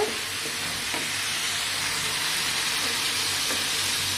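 Okra (bhindi) sautéing in hot oil in a pan, giving a steady close sizzle and hiss with occasional soft stirring scrapes throughout.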